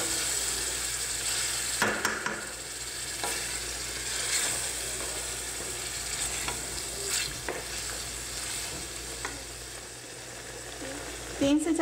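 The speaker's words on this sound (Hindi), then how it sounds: "अब हम इसमें अदरक लहसुन और टमाटर का पेस्ट भी साथ ही डाल देंगे और अच्छे से मिक्स करेंगे।" Chicken with ginger, garlic and tomato paste fries in a pan, giving a steady sizzle broken by intermittent scraping and stirring strokes throughout.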